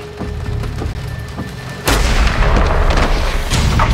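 A sudden loud gunshot cracks in Medal of Honor Warfighter, followed by a booming reverberant tail, after a quieter stretch of soft ambient thumps.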